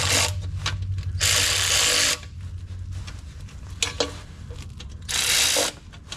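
Transmission pan bolts being tightened on a 2005 Mazda 3 with a damaged pan, heard as close mechanical whirring bursts from a power tool, alternating with quieter ratchet clicks and shop noise over a low steady hum.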